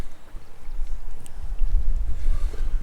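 A strong northwesterly wind at a lakeside wild camp by Llyn y Fan Fawr in the Brecon Beacons buffets the microphone in gusty, low rumbling bursts that build louder toward the end.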